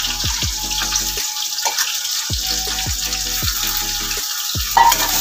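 Chopped onion and slit green chilies frying in hot oil tempered with garam masala, a steady loud sizzle with intermittent clinks and stirring scrapes of a utensil, no voices.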